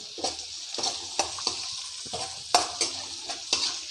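Bottle gourd curry with turmeric is stirred in a frying pan, a soft sizzle broken by a series of scraping strokes from the spoon against the pan, fairly quiet and with no talking.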